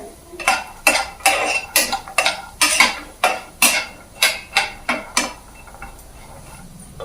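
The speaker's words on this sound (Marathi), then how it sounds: "यामध्ये आपण हे हरभरे घालून घेऊयात पॅनमध्ये मी थोडंसं तेल घातलेलं आहे" Green chickpeas going into a pan with a little oil, a series of about a dozen sharp, close metallic clinks and scrapes of a utensil against the pan in an uneven rhythm, then quieter at the end.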